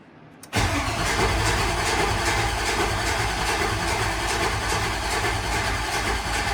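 Engine of a street truck after an electrical fix catches after a brief crank and settles into a loud, steady idle that runs on unbroken, close and alone.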